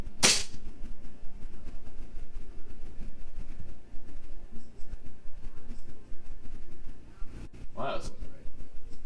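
A Jag TTI JW4 Pit Viper airsoft pistol fires a sharp, loud crack at the very start, followed by a second, quieter snap near the end over steady background noise.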